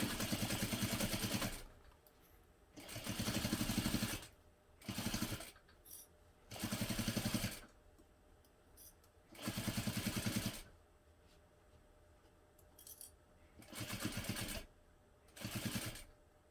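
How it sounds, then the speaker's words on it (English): A sewing machine runs in seven or eight loud, steady bursts of stitching with short pauses between, sewing a half-inch seam on a hobo bag with a recessed zipper. "now I'm going to sew this one together using 1/2 inch seam allowance again"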